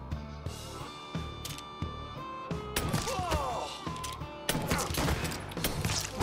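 A few sharp gunshots and heavy impacts punctuate a tense fight in the Mafia III video game, first spaced apart, then a louder, busier flurry of shots and crashes near the end, all fairly close.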